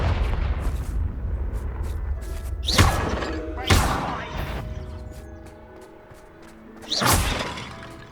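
Confringo fire-blast spells in Hogwarts Legacy go off in three loud booming bursts, each with a shattering crackle that trails away, over a low game rumble and faint music.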